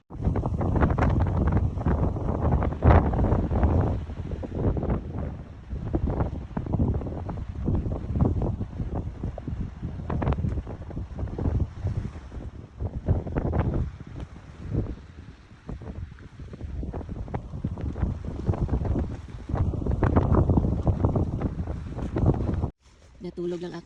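Strong wind at a campsite in Norway buffets the microphone in heavy, uneven gusts throughout, loud and close, while people talk over it.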